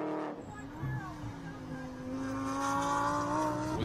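GTS-class race cars in a Pirelli World Challenge SprintX race at Portland International Raceway, engine note climbing steadily as one car accelerates out of a corner, heard beneath continuous trackside commentary.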